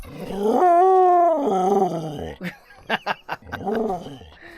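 A dog lets out a drawn-out, wavering howl that slides in pitch, followed by shorter yips and whines, close by with people's voices mixed in.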